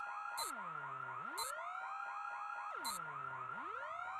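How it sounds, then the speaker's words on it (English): A bike rack alarm sounds on its own with a loud, continuous electronic wail, repeatedly sweeping down and climbing back up in a steady cycle, punctuated by short high bursts at each turn. "Somebody touched my bike rack alarm."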